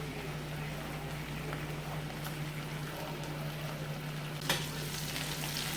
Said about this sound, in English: I'm going to fry the bacon